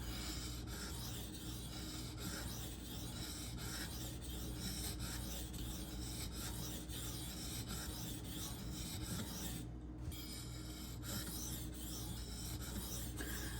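An Esee Izula II knife blade, 1095 steel, scrapes steadily across a 2000 grit sharpening stone in close, continuous rasping strokes, with no voices.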